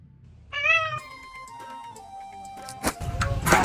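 A cat gives one clear, close meow that trails off into a long fading tone, followed by clattering and rustling noises near the end.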